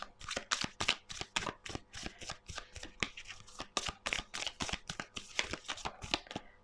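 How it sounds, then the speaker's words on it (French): A deck of tarot cards being shuffled, a quick run of close, crisp riffling bursts and slaps in a steady rhythm, fairly soft, with no talking. "Pourriez-vous faire sauter les cartes, s'il vous plaît? Ça fait beaucoup de cartes."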